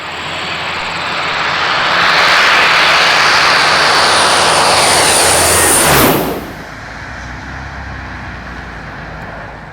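An RNZAF Hercules transport aircraft flown by 40 Squadron makes a loud, close flyby, its turboprop engine roar swelling into a heavy broadband rush that holds steady, then falls sharply as it passes and fades to a distant hum.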